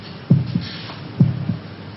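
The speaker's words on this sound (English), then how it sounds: "Can you hear your heart beating?" Heartbeat sound effect, two deep thumping lub-dub beats spaced about a second apart, close and muffled over a low hum.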